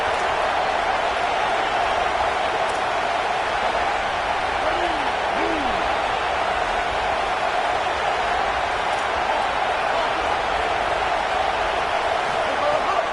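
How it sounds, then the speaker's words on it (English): A packed stadium crowd at a Michigan vs Alabama college football game roars steadily and loudly on a third-down defensive play, a dense wash of cheering that lasts throughout, with faint commentary underneath. "Decibels rising as the crowd gets behind this defense on 3rd down."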